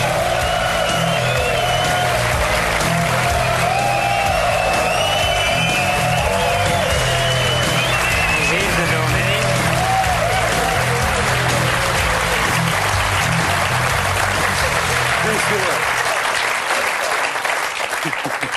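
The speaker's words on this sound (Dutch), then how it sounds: "Geef onze 2 helden een applaus." A TV game show crowd gives long, loud applause with cheering and whoops for two finalists in a contest, with music and voices mixed under the steady clapping.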